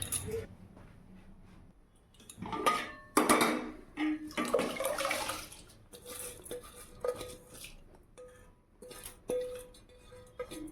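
Cold tap water runs and splashes in a home kitchen in uneven bursts, mixed with light clattering and patter, close and without talk.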